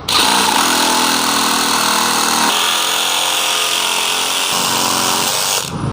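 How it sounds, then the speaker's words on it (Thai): Loud, continuous buzzing of a Dewalt DCS312 cordless reciprocating saw cutting through pipe, the motor pitch shifting as the blade bites, running steadily for several seconds. "ใช้เลื่อย DCS 312ในการตัดท่อนะครับ"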